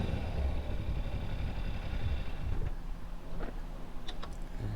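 A motorcycle engine idles steadily as the bike is walked into place and parked, a constant low rumble close by with faint ticks near the end.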